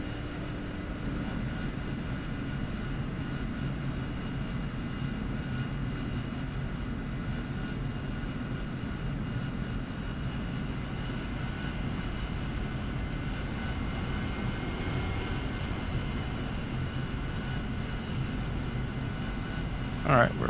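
The engine of an AV-8B Harrier jet in the DCS flight simulator gives a steady, loud, unbroken roar and whine that stays constant throughout, with no talking heard over it.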